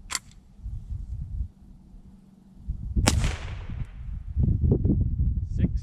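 A .22 LR 32-grain CCI Stinger round fired into ballistics gel gives one sharp crack, close and fairly loud with a short decaying tail, amid low rumbling background noise and handling sounds.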